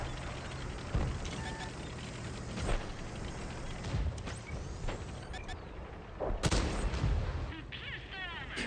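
High-explosive shells fired in a video game: several sharp cannon blasts, the loudest near the middle, punctuate a continuous rumbling engine-and-battle background.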